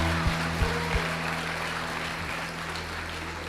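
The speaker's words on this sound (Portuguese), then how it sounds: "Uma salva de palmas a Jesus por esta palavra." A church congregation at a revival congress applauding, a dense, steady wash of many hands clapping that holds evenly for a few seconds, with no voices.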